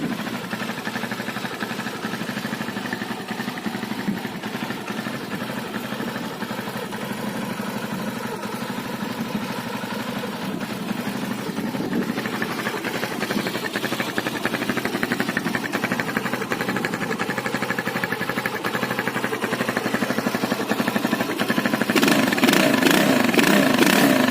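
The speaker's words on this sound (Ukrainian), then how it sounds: "Так, мотоцикл працює." A Viper 200 F5 motorcycle engine runs steadily at idle up close, a continuous mid-pitched putter with mechanical clatter that grows slightly louder and rougher toward the end.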